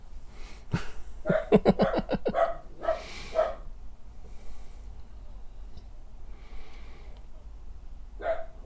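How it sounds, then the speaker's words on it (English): A dog barks in a quick run of sharp, close yaps, followed by a few more scattered barks and breathy snorts, with quiet background noise between them. "Why are you still barking?"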